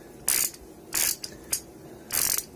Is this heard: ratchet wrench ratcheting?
yes